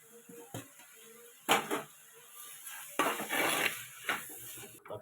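Green chillies sauté in a pan for kathrikkai karuvadu thokku as a spoon scrapes and stirs in several distinct strokes. A soft sizzle runs underneath, and occasional louder clatters of utensil on metal cut through.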